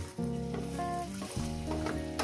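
Sweet corn pakoras fry in hot oil, giving a short, close bubbling sizzle with light stirring over a low tonal background.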